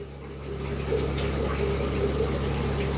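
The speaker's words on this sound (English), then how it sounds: "that airstone pushes all the water up with the bubbles" Aquarium airstone bubbling and pushing water upward in a tank, a steady close bubbling and water churn over a constant low pump hum, with no talk.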